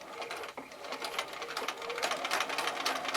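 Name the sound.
sewing machine stitching a scant quarter-inch seam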